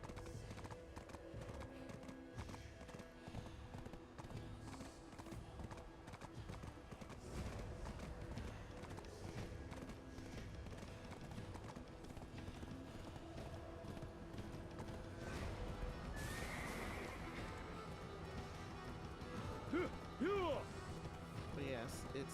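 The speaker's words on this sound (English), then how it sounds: "Of course my horse gets stuck." A horse in Black Desert Online clip-clops along in steady hoofbeats, close and continuous, with a brief whinny and some clattering thuds near the end as the mount gets stuck.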